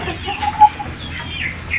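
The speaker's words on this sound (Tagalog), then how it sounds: "So lang yung mga manok dari mga idol." Chickens cluck softly nearby, a few short murmuring calls and one brief higher cluck over a quiet farmyard background.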